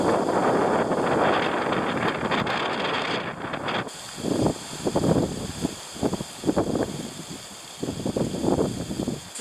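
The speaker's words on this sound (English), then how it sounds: "a windstorm came up toward the morning and it was blowing the tent around" Wind gusting through a mountain campsite in Rocky Mountain National Park, a steady roaring rush that turns into loud buffeting gusts against a tent, close and dense with no talking.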